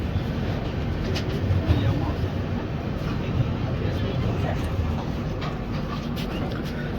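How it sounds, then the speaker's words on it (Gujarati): Indian train 19316 rolls into a station with a steady low rumble and clatter, close and fairly loud, while faint voices murmur underneath. "આપણી ટ્રેન જે છે એ અહીંયા સ્ટેશન પર આવી ગઈ છે"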